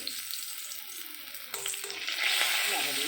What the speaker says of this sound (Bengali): এই দেখো পটল ভাজা হচ্ছে এইদিকে পটল ভাজা হচ্ছে